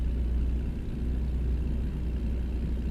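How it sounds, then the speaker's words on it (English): Heavy trucks rumble past in American Truck Simulator, a steady loud low engine drone with deep rumbling that holds constant throughout, no voices over it. "Passing trucks."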